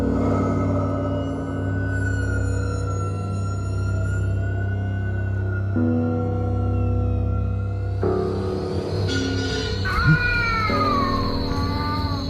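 A cat lets out long, drawn-out wailing meows, rising and falling in pitch, loud and close, over a low steady hum.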